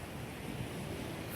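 Steady surf washing onto Paradise Beach on Thasos under an overcast sky, a continuous broad rush of waves mixed with wind buffeting the microphone, no voices.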